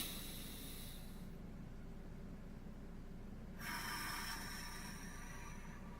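Deep belly breathing: slow, airy hissing breaths close to the microphone, one long exhale that fades and then a fresh breath drawn in.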